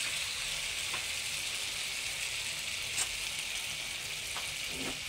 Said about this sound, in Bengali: এখানে যে আওয়াজটা হয় তেলের মধ্যে